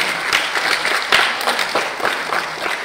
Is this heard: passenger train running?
no